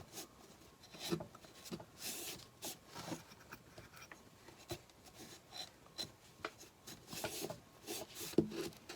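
Cloth rubbing Minwax special dark finishing wax along the edges of handmade wooden pumpkins, a quiet repeated scuffing and wiping with soft scratchy strokes, faint and close with no talking.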